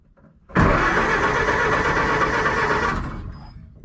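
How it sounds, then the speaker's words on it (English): A 1931 Ford Model AA 1 1/2 ton truck engine spins fast on its starter after decades of sitting, a loud, close, continuous whirring crank lasting over two seconds, then tapering off into quiet. "Starter works"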